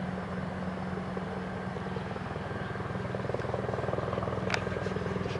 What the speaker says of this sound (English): I'm gonna get a chopper shot.